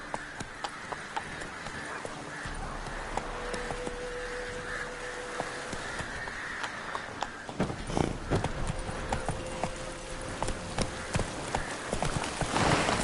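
Hooves of the horse Roach clop in a fast galloping rhythm in the video game Witcher 3: The Wild Hunt, close and steady, with game ambience and a sustained tone running beneath.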